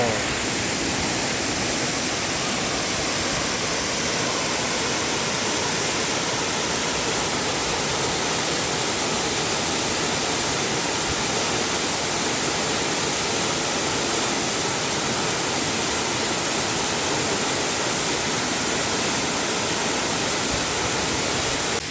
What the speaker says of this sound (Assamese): এই জলপ্ৰপাতৰ নাম হ'ল মালাং চিলডুবি